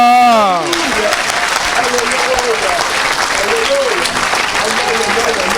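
Church audience applauding during a sermon, sustained loud clapping that starts abruptly after a voice speaks and continues, with a preacher's voice calling out over it.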